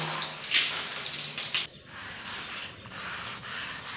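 A broom gets a thorough rinse under running water at home, a steady close splash and trickle that shifts in tone partway through, with no talking.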